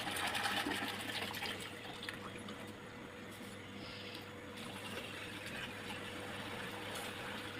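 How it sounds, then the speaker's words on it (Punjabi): Water pours and splashes onto garden plants as they are watered, a steady running trickle with a faint mechanical hum beneath, continuous and fairly quiet. "ਹੁਣ ਮੰਮੀ ਇੱਥੇ ਬੂਟਿਆਂ ਨੂੰ ਪਾਣੀ ਪਾਉਂਦੇ ਪਏ ਆ"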